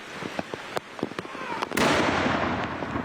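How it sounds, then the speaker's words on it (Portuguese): Ceremonial cannon salute at Buckingham Palace and the Tower of London for King Charles III's birthday: a string of sharp, separate booms that crack out at intervals, then a louder burst that trails into a rumbling, noisy wash. "Salvas de canhões do Palácio de Buckingham e da Torre de Londres homenagearam o rei britânico Charles III"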